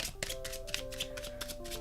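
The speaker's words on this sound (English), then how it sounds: "I'll keep shuffling while I'm at it." A deck of playing cards being shuffled up close, giving rapid papery riffles and flicks in quick bursts, with a steady tonal hum running underneath.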